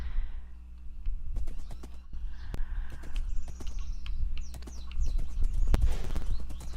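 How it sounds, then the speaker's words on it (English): A horse in Minecraft trots and gallops, giving repeated sharp clip-clop hoofbeats in a steady rhythm over a low background hum, with a brief snort or whinny and no talk. "let's find out how fast does this horse go."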